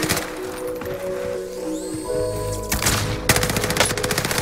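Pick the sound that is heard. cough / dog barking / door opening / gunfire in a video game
gunfire in a video game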